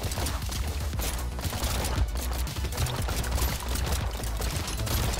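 Rapid continuous gunfire from dragon guns in the video game Brotato, a dense crackling barrage of overlapping shots, loud and unbroken throughout with no talk.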